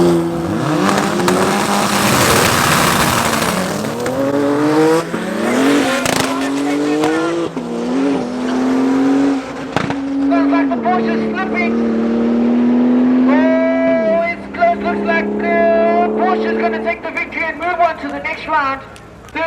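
A Porsche race car screams down the strip at a drag race at Tarlton International Raceway, its loud engine climbing through rising gear shifts, with a commentator talking over the roar throughout.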